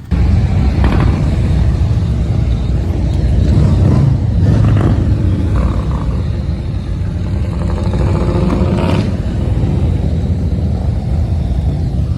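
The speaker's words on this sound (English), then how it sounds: "This was just us riding to the morning meet spot or to get gas at the campground." A vehicle drives along mountain roads near a campground, its engine a loud, continuous rumble with road and wind noise throughout.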